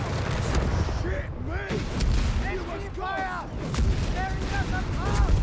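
Artillery shells boom repeatedly in the real-time strategy game Company of Heroes 3, in a DAK versus UKF match, with dense, overlapping blasts and gunfire under continuous commentator talk.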